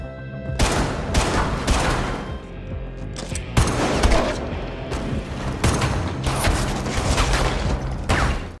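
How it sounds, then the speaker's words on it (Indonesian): Gunfire rattles through a Korean spy film shootout in a series of loud, sharp bursts and single cracks spread across the scene, with mechanical clatter between shots. "Dan akhirnya, baku tembak pun tidak bisa dihindarkan."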